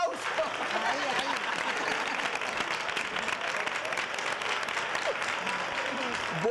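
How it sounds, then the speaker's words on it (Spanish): Studio audience applause on a Spanish television show, a steady dense wash of clapping running evenly through the whole stretch with faint voices mixed underneath. "¡Un aplauso!"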